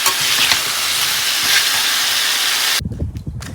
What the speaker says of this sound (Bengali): চলুন ওই কলা আর আলুটা ভালো করে ভাজা করে নিই